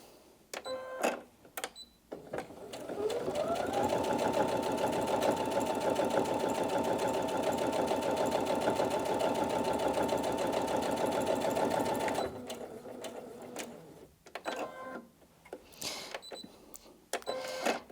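A Brother Innov-is NV2700 sewing machine stitches steadily through four layers of fabric, one loud continuous run of about nine seconds, with softer handling clicks before it and after it.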